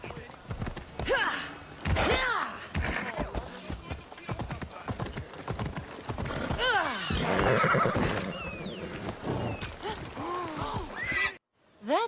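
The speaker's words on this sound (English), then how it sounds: "It's a very nice horse." A horse in the Assassin's Creed Odyssey video game whinnies loudly several times, with clip-clop hoofbeats, thuds and game ambience mixed in, and voices talking at points.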